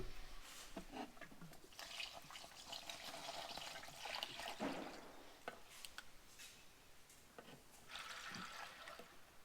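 Coolant poured into the radiator of a harvest machine, a steady near gurgling and splashing liquid flow that runs throughout with small swells and dips.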